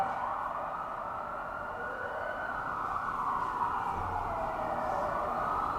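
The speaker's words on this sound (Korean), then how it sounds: "사이렌이 울리네요." A siren wails steadily in the distance, its tone sliding slowly up and down over a low hum of traffic, continuous throughout.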